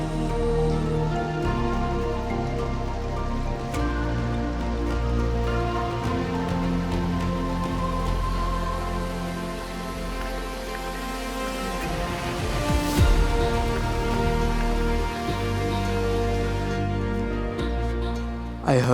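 Monsoon rain pours steadily over Gokarna on the Karnataka coast of the Western Ghats, a dense, continuous wash of falling water that stays loud and even throughout with no voices.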